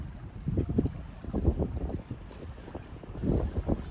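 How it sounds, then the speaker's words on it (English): Gusty wind buffets the microphone in uneven bursts on a sailboat in the Cyclades, Greece, with low rumbling surges coming and going over a few seconds outdoors. "A few little gusts coming in, but nothing too major."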